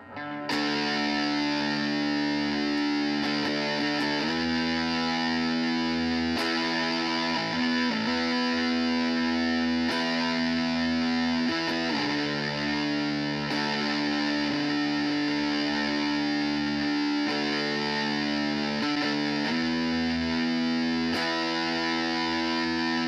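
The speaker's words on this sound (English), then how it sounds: "let's see what kind of distortion we get out of this monster" Electric guitar played through a STRICH WARCRY 80s metal distortion pedal into a clean amp channel: thick, heavily saturated sustained chords and riffs, loud and continuous with brief changes between held notes, and no talking.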